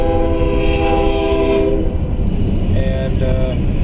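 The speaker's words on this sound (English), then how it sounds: "where's the train? There it is." Freight train passing close by, a loud rumbling roll with a sustained multi-tone horn that fades and then sounds again in two short blasts.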